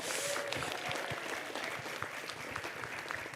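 A convention panel audience at a fan event breaks into applause, a dense patter of many hands heard from a distance at moderate level, with a brief voice near the start.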